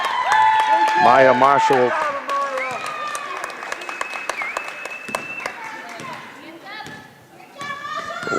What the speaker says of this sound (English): a little standing ovation there, crowd for Maya Marshall